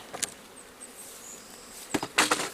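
Bees buzz around an opened bee colony hive, giving a faint, steady drone with a few sharper close passes, and no talking.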